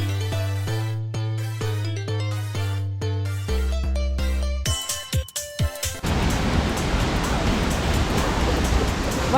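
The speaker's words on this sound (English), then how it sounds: "Wow, this is a mini waterfall." Music plays at first, then a steady rush of falling water takes over, loud and close, hissing evenly to the end.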